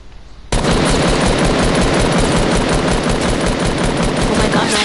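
Loud, dense gunfire in the Fortnite video game, involving a sniper, bursts in suddenly and roars continuously for over four seconds, close and dominant.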